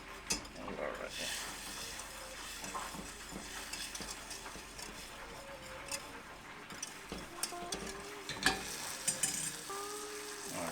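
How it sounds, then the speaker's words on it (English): Buffalo garlic wing sauce with Tabasco stirred in a sizzling pan, a constant frying hiss with soft scrapes and light utensil clinks close by, and a faint voice at times. "Let me give it a stir."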